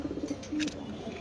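Racer pigeons at a pigeon farm in Mirpur coo softly and repeatedly, a low, steady burbling close by with no talk over it.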